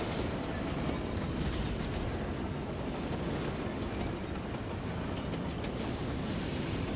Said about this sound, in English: So how about we ride this train so we can actually see what's going on.